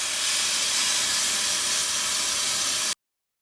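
Propane gas burner on a camp stove in a converted 4x4 camper, roaring with a loud, steady broadband hiss for about three seconds before cutting off abruptly.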